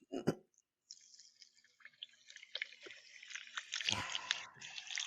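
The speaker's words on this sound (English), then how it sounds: "Here's the pour." A drink pours into a glass, a liquid trickle and splash that builds over several seconds, with a short burst of noise just before it starts.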